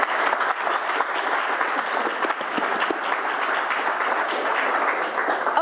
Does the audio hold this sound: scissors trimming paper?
no